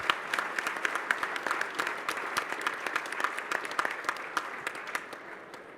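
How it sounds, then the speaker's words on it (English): Audience applause at the close of a 2018 Young Farmers & Ranchers discussion meet final, steady dense clapping at moderate distance that tapers off near the end. "Let's do one more round of applause for all of our competitors."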